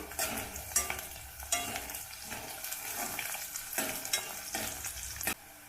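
Onion, curry leaves and garlic frying in oil for a North Karnataka style moth beans curry, a steady sizzle broken by repeated scraping stirs of a spoon in the pan, close and clear with no talk.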